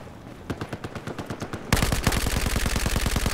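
Automatic gunfire in Battlefield 4 multiplayer, a steady rapid stream of shots that starts moderately loud and jumps to a louder, denser burst partway through, continuing rhythmically to the end.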